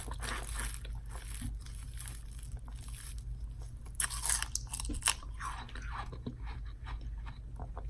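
A frozen Otter Pop ice pop is crunched and chewed up close, a steady run of crisp icy bites and grinding with a few louder crackles, no talking.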